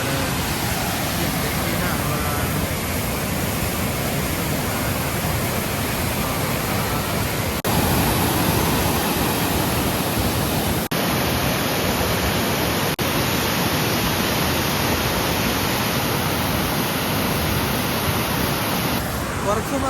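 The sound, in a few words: waterfall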